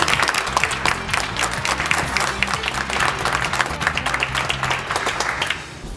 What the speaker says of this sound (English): what about a big round of applause to kick things off?